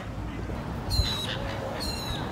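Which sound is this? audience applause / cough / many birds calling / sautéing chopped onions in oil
many birds calling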